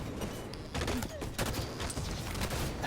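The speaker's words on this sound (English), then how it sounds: "the grenades come flying in here" Grenades and gunfire during a competitive Halo match in the Halo Champions League, with rapid overlapping bursts of shots and blasts that rise and fall over a dense, busy game mix and faint commentary.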